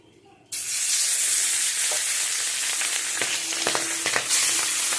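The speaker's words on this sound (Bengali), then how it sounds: "4টে মাছ এটা ভেজে নিয়ে পরে 2টো মাছ ভাজবো" Pabda fish fry in hot salted oil, the sizzle bursting in loudly after a brief quiet start and holding steady, with scattered spits and crackles popping close by.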